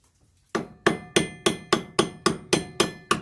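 A makeshift hammer standing in for a ball peen strikes a metal guitar truss rod being made from scratch in a vintage single-action style: nine sharp, ringing metallic blows at a steady pace after a brief quiet start, close and loud.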